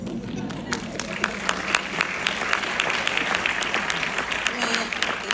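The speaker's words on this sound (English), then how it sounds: "let's give them one more round of applause" Sustained audience applause fills a room after a film Q&A with Todd Haynes, Julianne Moore and Charles Melton, steady dense clapping throughout with a faint cheer here and there.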